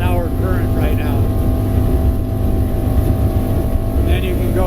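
A 2020 North River 21-foot Fastback boat's engine drones steadily at speed around 40 mph, a loud constant roar mixed with water and wind rush, with a voice faintly audible under it.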